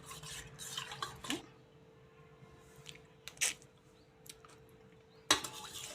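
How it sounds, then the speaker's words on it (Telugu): A spoon stirs chaat masala into a pani puri mixture in a bowl, giving soft scraping and clinking strokes in bursts over a low steady hum, with a sharp clink near the end. "ఇప్పుడు కలుపుకుందాం, బాగా మిక్స్ చేసుకుందాం."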